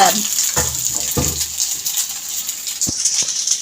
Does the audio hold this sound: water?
yes